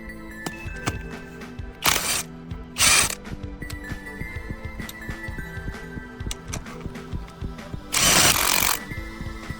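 A Profi-Tec PPTW11020 cordless impact wrench loosens and then tightens a wheel nut with three loud, close hammering bursts, the last one longest, set among small ratcheting and clicking sounds.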